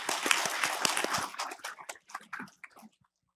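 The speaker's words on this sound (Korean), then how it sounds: "박수로 맞아주십시오." An audience at a library association briefing session on a humanities program applauds, a dense, loud burst of clapping that thins into scattered claps and dies away after about three seconds.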